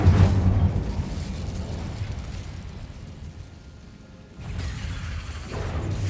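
In Hogwarts Legacy, the Incendio fire spell bursts out with a heavy whooshing blast, then a roaring rumble that slowly fades before a second surge of rushing flame swells up near the end.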